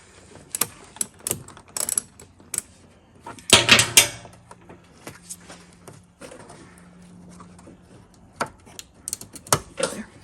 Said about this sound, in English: I have to use a screwdriver to help pry it out